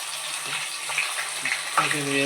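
Ginger garlic paste sizzles and fries in hot oil for a chicken pickle, a soft steady crackle with a few stirring clinks near the end.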